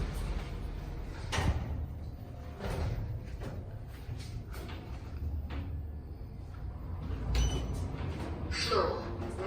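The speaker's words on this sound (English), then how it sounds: "Doors closing." Schindler 3300 machine-room-less traction elevator doors sliding shut at a mall, a few soft thuds and rolling rumbles over steady cab hum, with a brief higher swish near the end.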